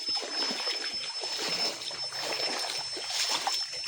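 A river flows with a steady, close rush and splash, continuous broadband water noise with no talking over it.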